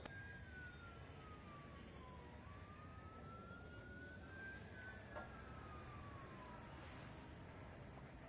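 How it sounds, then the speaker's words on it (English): AI-generated distant sirens: a faint, far-off wailing siren tone that glides slowly up and down over a low, steady background drone. "Let's generate distant sirens."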